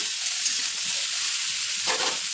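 Okra with salt sizzles steadily in a pan for a mustard bhindi dish, a constant close bright hiss with a brief louder crackle near the end.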